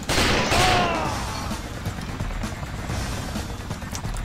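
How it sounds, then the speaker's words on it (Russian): A loud burst of gunfire from the shooter video game XIII opens close up. It fades into a lingering echoing rumble and low mechanical background noise. "Да, стрельба на самом деле здесь выполнена довольно топорным образом."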